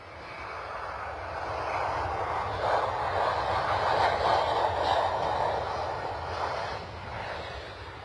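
An airliner arriving from Faro at London Stansted makes a broad jet roar that swells and then slowly fades, heard from a distance at the airport.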